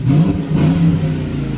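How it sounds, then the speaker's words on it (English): A late-1980s or 1990s muscle car with a live rear axle revs through its exhaust, a loud, close, deep rumble that swells and holds steady without a break. "The exhaust sounds a lot better."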